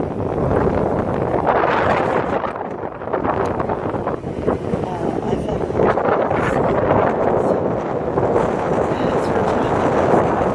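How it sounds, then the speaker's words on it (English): Strong, steady wind on Holly Beach, Louisiana roars and buffets the microphone throughout, a constant rushing noise with gusty surges and no pauses. "it's very windy"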